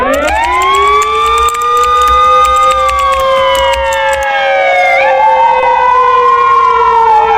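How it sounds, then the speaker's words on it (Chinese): A typhoon warning siren wails loud and close, several harmonic tones rising, holding, then sliding and swelling again over several seconds. "首先是台风预警警报。"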